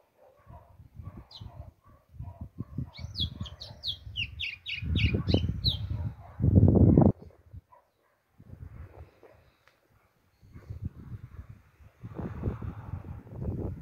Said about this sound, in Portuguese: E o passarinho tá assim, ó, cantando bastante.